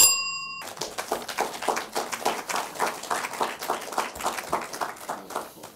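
An audience at a university law quiz competition claps steadily in a sustained round of applause, preceded by a brief electronic tone.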